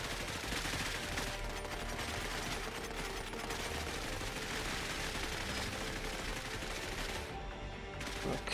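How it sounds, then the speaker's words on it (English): Enemy gunfire in the video game Cepheus Protocol, a dense, continuous barrage of loud overlapping shots and bursts that runs almost without pause, with a brief thinning near the end. "They're firing."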